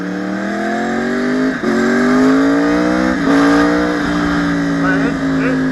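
A 2014 Yamaha YZF-R1 1000cc supersport motorcycle pulls hard through the gears, its loud, close engine note climbing in pitch, dropping briefly at each shift and rising again, with a rider speaking over the roar.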